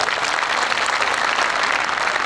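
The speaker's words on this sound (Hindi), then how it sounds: "इनके लिए जोरदार तालियां बजा दी" Loud, dense applause from a seminar audience of students, many of them girls, cheering on the daughters present; steady clapping fills the whole stretch with no pause.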